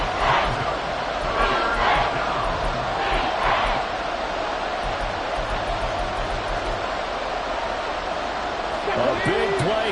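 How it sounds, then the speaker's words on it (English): Stadium crowd at a close fourth-quarter American football game roars and builds under a play-by-play announcer's voice, with shouts and crowd surges mixed through the noise. "A big play here as the crowd noise rises."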